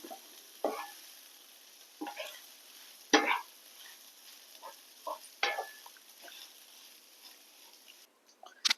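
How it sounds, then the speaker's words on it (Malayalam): A spoon stirs rice mixed with Andhra-style paruppu podi, a dal powder, giving soft scraping strokes in a few separate bursts close by, with quiet pauses between them and no talk. "ഇത് നന്നായിട്ട് ഇളക്കി കൊടുക്കാം"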